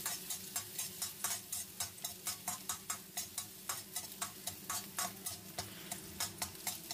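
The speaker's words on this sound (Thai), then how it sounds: "เมื่อน้ำมันของเราร้อนได้ที่แล้วก็ใส่กระเทียมลงไปผัดให้หอมเลยครับ" Garlic sizzles in hot oil in a pan on a gas stove, a constant soft fry under quick, regular clicking strokes of a utensil stirring it, about three per second, close and with no talking.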